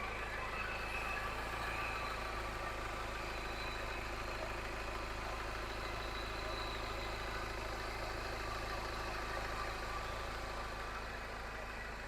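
A 2014 Ford Ranger XLS engine idles smoothly and steadily with no knocking, a constant low hum heard up close in the engine bay for the whole stretch, with no talking.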